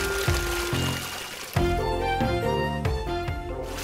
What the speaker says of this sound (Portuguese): pegue uma colher e despeje água na palmeira